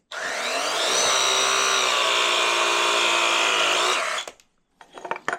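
A power tool cuts through black pipe in a workshop setting, giving a loud, steady, close whine that holds for about four seconds and then stops abruptly, followed by a few faint clatters.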